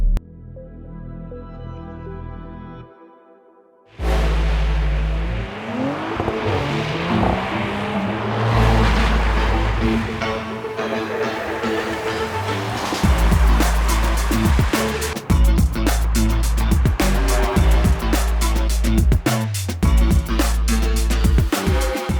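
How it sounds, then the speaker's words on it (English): An Audi accelerating and braking hard on ice on a winter driving course: after a short quiet opening the engine roars up loudly and stays strong, with clattering pulses near the end as the brakes work against the slippery surface. "What I'm doing is an exercise of braking on ice."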